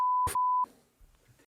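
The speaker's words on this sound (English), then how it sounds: "We'll get that beeped out for anyone playing along at home." A censor beep on a football podcast: a single steady, loud electronic tone of about half a second, briefly interrupted by a short burst, followed by faint muffled sounds.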